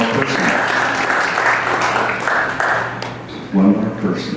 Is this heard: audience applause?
yes